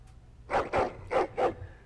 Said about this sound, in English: But listen to that barking.